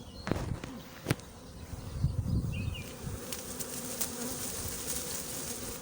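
A steady low insect drone fills the air, a small secondary swarm of honey bees buzzing in a bush nearby with a few louder individual passes and soft rustling.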